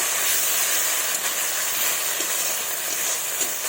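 Spice paste with chopped tomato frying after a little water is added, a dense, loud, steady hiss of steam and sizzle close by, with no talking.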